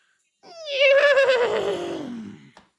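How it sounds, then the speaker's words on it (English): A horse whinny, a single loud descending neigh with a wavering pitch that rises sharply and trails off over about two seconds, heard alone with no talk. "The horses are neighing."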